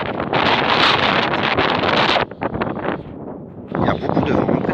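Strong gusts buffet the microphone with a heavy roar that dips briefly midway and then surges back, beside an electric Kangoo ZE being charged outdoors.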